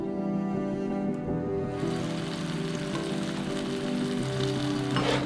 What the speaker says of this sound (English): Fry any vegetables you'd like to eat with the fish.